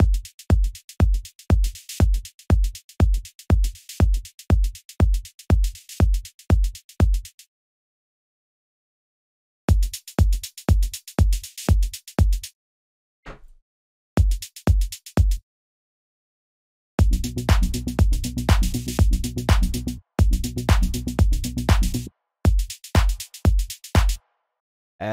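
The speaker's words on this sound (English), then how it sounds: "this is how you can create those panning effects on your hi-hats." Hi-hat pattern with panning effects, rapid evenly spaced crisp ticks in bursts separated by gaps of silence, later joined by low kick-like thumps, loud and electronic with no speech.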